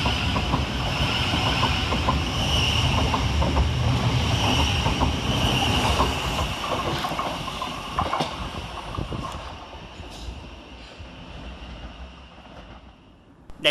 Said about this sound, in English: So let's get started here at Preston Park with 700-136, working the 1107 Thameslink service from Bedford to Brighton.